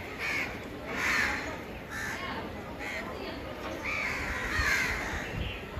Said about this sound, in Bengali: এই যে কাক আসে সব এখানে জড়ো হয়েছে